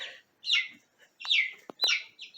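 Young chickens in a coop give short bright chirps and peeps, several quick calls close by with brief gaps between them.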